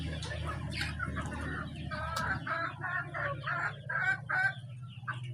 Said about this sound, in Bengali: কলম্বিয়ান লাইট বাহামা মোরগ